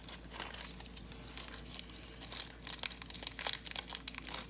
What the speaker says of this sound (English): In a little plastic bag.